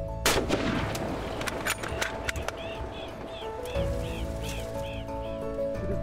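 A hunting rifle fires one sharp, loud report near the start, followed by a rolling echo outdoors; birds chirp faintly afterward in a series of short calls.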